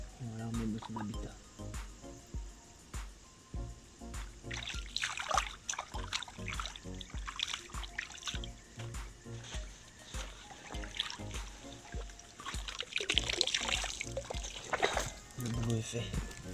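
Water trickles and splashes softly in a river at night as a fish is released, with small pours and drips, occasional handling noises and low talk nearby.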